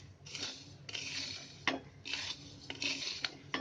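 Plain short-grain rice dry roasting in a pan, with repeated scraping stirs giving rhythmic raspy sweeps about every half second to second, close and fairly soft, with no talking.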